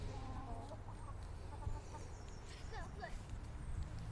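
Backyard chickens clucking softly in short, scattered calls over a low steady background hum, with a voice speaking nearby.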